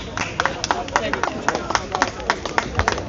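A crowd at a street rally outside Downing Street against digital ID claps in a quick, uneven burst of close handclaps lasting a few seconds, with voices shouting underneath.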